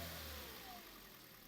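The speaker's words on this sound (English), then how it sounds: "Rev and 2500 and hold 5 seconds." A Toyota Yaris engine held at a steady 2500 rpm during an alternator and charging check, a loud, constant mid-pitched hum from close by with a slight easing partway through.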